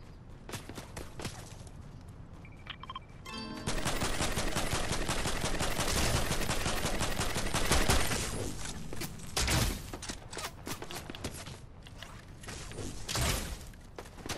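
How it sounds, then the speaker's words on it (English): Video game gunfire, at first scattered shots and then long bursts of rapid automatic fire with mechanical clanks, moderately loud and continuing throughout. "They're shooting at us."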